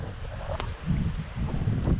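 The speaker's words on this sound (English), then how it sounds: "It's windy." Gusty wind buffets a microphone in low rumbling bursts, loud and uneven, with a couple of brief sharper knocks.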